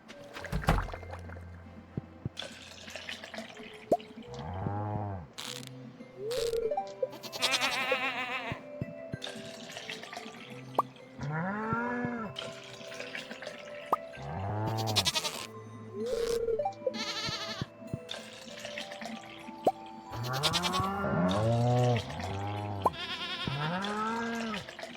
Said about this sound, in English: Alright, cow. There's a cow.